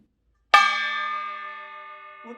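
A single strong strike on a kkwaenggwari, the small Korean brass gong, played as the open 'gaeng' stroke: a sharp metallic attack followed by a bright, shimmering ring that fades slowly over about two seconds, close and alone.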